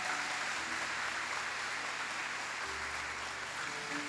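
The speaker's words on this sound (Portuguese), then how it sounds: "Vamos aplaudir eles com uma salva de palmas." A congregation at a religious gathering applauds in a continuous wash of clapping, heard at a moderate distance over a low hum.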